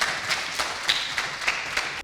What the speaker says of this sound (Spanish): aplauso para ti y para todo el pueblo ucraniano